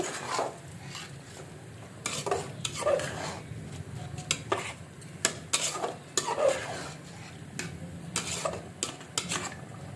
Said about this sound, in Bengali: চালটা দেওয়া হয়ে গেছে এখন আমি নাড়াচাড়া করে দিব